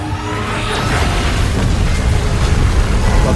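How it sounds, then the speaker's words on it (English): Godzilla firing a beam blast in the PUBG Mobile video game, a loud, dense, sustained roaring boom with crackling rumble that builds and stays intense throughout, without talk. "Is it gonna fire a beam at us?"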